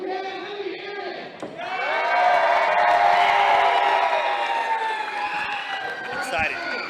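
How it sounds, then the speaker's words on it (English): A wrestling crowd at a UPW live event cheers and screams, swelling into a loud sustained roar of many voices that eases slightly before a final burst. "I want to hear you cheer and scream as loud as you can. Let me hear it."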